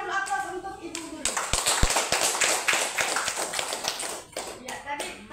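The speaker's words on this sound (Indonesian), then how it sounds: "Kita berikan dulu aplaus untuk Ibu Guru" Applause for a teacher at an elementary school session, a room of people clapping steadily for about four seconds after a short spoken lead-in, fading into a few final claps.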